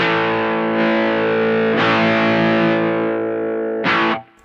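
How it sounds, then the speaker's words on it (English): Supro Sahara electric guitar played with its volume knob turned fully up, giving a loud, thick distorted tone: sustained ringing chords with a few fresh strums, the last one cut off sharply at the end. "listen to what happens when you dime that volume knob"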